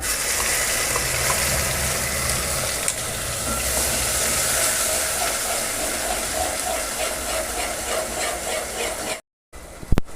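Steady, loud sizzling of ground masala frying in a hot pan, a dense hiss that runs almost the whole time before cutting out briefly near the end.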